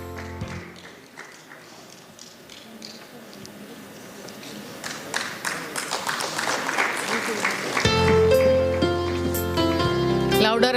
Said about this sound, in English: Louder applause, please.